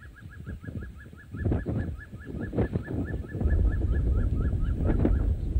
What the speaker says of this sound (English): You heard that beautiful call. Very characteristic call of this bird.